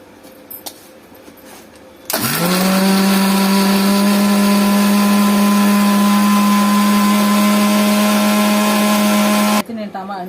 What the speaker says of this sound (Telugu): ఈలోపు మిక్సీ వేసేద్దాం.